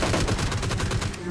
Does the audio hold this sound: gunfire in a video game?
yes